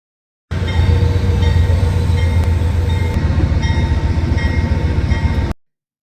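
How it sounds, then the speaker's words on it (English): An Amtrak Texas Eagle passenger train engine rumbles steadily nearby, a low continuous drone with faint clattering, holding constant for several seconds before cutting off. "The engine is moved from one end of the train to the other to pull the train back"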